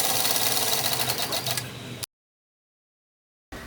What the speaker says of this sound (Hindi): इसी के ऊपर एक और सिलाई चलानी है।